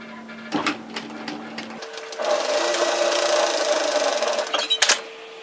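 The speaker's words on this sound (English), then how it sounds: "I'm going to run a seam, well, a hem actually, through my overlocking line from one side to the other." An overlocker runs a hem along woven kimono robe fabric: a few clicks and short bursts, then a long steady buzzing run that ends in quick stops.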